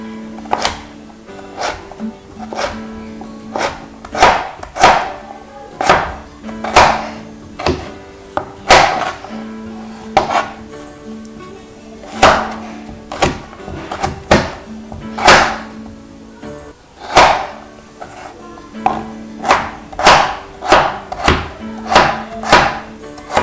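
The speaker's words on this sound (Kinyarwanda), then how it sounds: "Iyindi karoti turakata igice gusa." A knife chopping carrots on a board, sharp distinct thwacks in an irregular series of roughly twenty cuts, close and alone with no talk.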